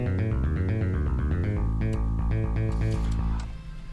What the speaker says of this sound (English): kind of weird bass line that follows the synth line in the intro